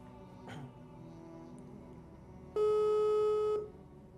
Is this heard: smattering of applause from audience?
no